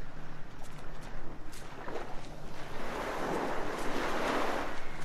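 Sea waves washing on a shore in The Last Door, a steady broad wash of surf with gusts of wind, rising and swelling louder toward the end, with no other sounds on top.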